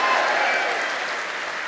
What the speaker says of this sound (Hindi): ये ताली आपके लिए बज रही है भाई,